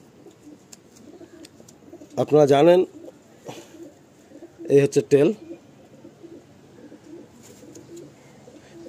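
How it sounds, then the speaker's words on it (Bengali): Restless Kalanka fancy pigeons give two short bursts of throaty cooing close by, a few seconds apart, while someone talks over the quieter stretches. "প্রচণ্ড ছটফটে পায়রা, প্রচুর ভাইব্রেশন, প্রচুর ভাইব্রেশন"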